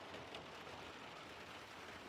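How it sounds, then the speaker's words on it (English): Steady rain falls outside, heard from inside a car as a constant soft broadband hiss with no distinct drops standing out, even and unbroken throughout. "It's just raining outside."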